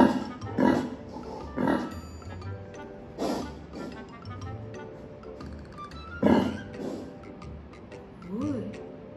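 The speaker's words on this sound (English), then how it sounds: "Or is it a pig? Okay, very good. Pig." Pig oinking in a children's animal-sounds quiz, with several short grunting bursts spaced a few seconds apart and softer animal noises between them.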